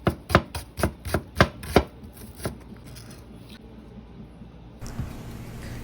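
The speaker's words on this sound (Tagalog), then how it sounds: "Hiwang maliliit naman ang gawin natin sa sibuyas." A knife chops an onion into small pieces on a cutting board, about eight quick, crisp strikes in a steady rhythm followed by a few slower taps, close and clear with no talking.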